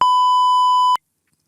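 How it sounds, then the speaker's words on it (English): A single steady censor beep tone, loud and clean, lasting just under a second, then silence. "because we got the beep. I can tell you their name."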